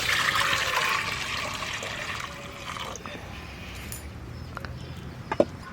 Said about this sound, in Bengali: আমি এই গরম জলটা এবার ঢেলে নেব।